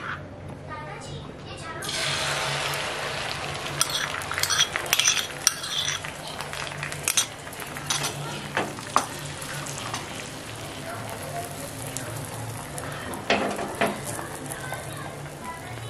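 Egg poured into a buttered pan over low heat for a spicy bread omelet toast, with soft sizzling, scraping and utensil clinks close by throughout, plus a brief stir of liquid near the start; no speech.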